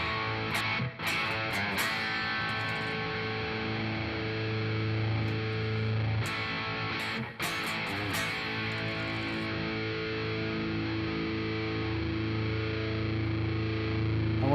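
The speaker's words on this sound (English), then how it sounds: "we have a seriously clean sound mixing with a seriously dirty sound for just like incredible definition and depth and broadness to our sound" An electric guitar runs through a very clean amp and a heavily distorted amp blended together, giving a thick, sustained, overdriven tone with a few sharp picked strums. It is steady and loud throughout.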